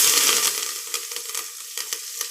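Shallots and curry leaves frying in hot sesame oil give a bright, steady sizzle up close, loudest at first and then settling, with small crackling pops and light stirring scrapes.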